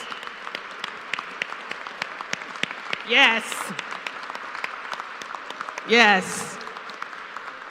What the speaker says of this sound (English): Let's give Melvin a round of applause.